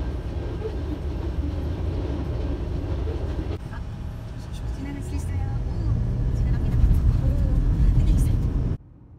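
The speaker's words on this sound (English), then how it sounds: "The train is passing by on the way." A train rumbles past at a moderate distance, its low steady roar growing louder before cutting off abruptly.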